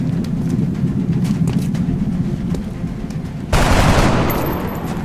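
Dense, continuous volleys from soldiers firing at aliens in XCOM Enemy Within rumble beneath a low ambient bed, swelling abruptly louder and brighter for the final seconds.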